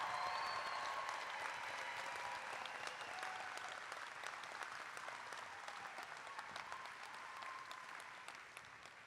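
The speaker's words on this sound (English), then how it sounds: "Can we just give all of them one more round of applause?" Sustained audience applause at a medical school hooding ceremony, a steady wash of many hands clapping across the hall, holding even throughout and tapering only slightly at the end.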